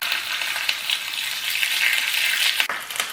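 Curry leaves crackle and sizzle in hot oil with dried red chillies for a Kerala vellarikka pachadi tempering, a steady close hiss with a stirring clatter near the end.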